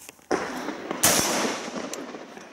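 A rifle fires modern SMB ammunition: a sharp crack, then a second louder report about a second later, each trailing into a noisy outdoor decay, close and loud.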